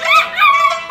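A frightened dog whines in a short, high, wavering cry with two rising-and-falling pulses, close and clear with no talk over it.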